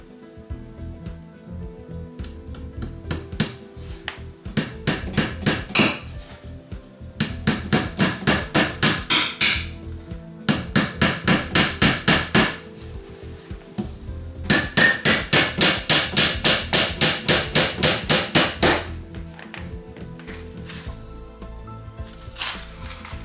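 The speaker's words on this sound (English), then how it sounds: "I'm going to put 2 nails on each side here." Hammer driving nails into a small wooden grow shelf, with rapid bursts of sharp close blows in several runs separated by short pauses, loud and steady.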